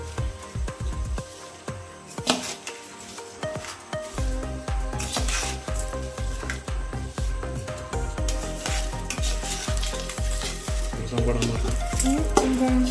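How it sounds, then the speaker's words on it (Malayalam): Rice goes into a pot for chicken biryani and is stirred, giving a steady sizzling hiss with repeated scraping and tapping strokes close up, growing a little busier toward the end. "നമുക്ക് റൈസ് ഇട്ട് കൊടുക്കാം"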